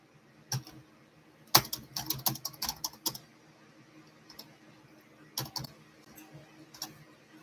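Keys on a computer keyboard clatter in quick irregular bursts, a busy flurry of taps followed by sparser, scattered keystrokes, close and clear with no talking.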